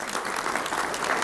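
Brief burst of audience applause at a mayoral forum, a dense, steady patter of clapping from a room of people, fairly quiet and heard alone.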